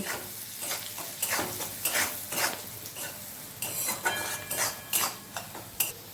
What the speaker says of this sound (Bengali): পরিমাণ মতো এখানে নুন দিয়ে দিচ্ছি। এগুলোকে খুব ভালো করে ভেজে নেব।